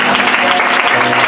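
A church congregation applauds and cheers during a women's prayer gathering, dense loud clapping with crowd noise filling the short stretch without pause.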